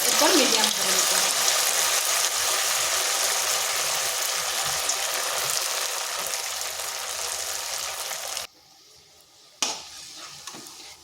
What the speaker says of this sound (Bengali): এগুলো এইভাবে নেড়ে চেড়ে লাল লাল করে ভেজে নিতে হবে।